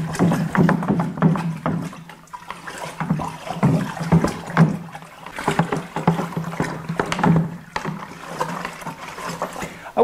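A paddle churns strawberry green apple mead inside a fermenting bucket, producing loud, rhythmic sloshing and splashing up close that continues steadily for about ten seconds.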